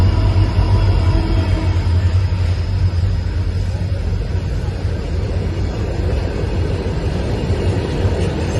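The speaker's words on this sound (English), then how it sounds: "These are the coal trains what we are talking about." A coal train passes on railway tracks in Velsao, Goa: a loud, steady low rumble and rolling clatter of wagons that carries on without a break for the whole stretch.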